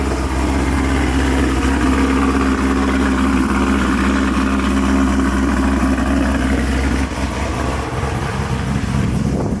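A cammed Corvette C7 Z06 engine idles steadily as the car pulls into a dyno shop, a loud, close, lumpy low rumble that holds constant, with a slight change near the end.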